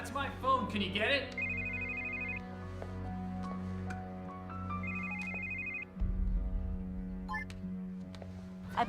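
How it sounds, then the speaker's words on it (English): A mobile phone ringtone plays a repeating electronic melody in bursts across the scene, with voices talking over and around it. "That's my phone. Can you get it?"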